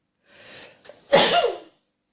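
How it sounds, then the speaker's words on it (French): A single person sneezes up close, a soft breathy intake followed by one sharp, loud burst that quickly fades into quiet. "Oh, je sens que je vais éternuer"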